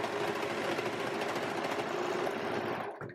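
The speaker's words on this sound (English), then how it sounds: "sew all the way off the end" A sewing machine stitches fabric and elastic on a romper garment in a fast, steady mechanical whir, close and continuous for about three seconds before stopping abruptly.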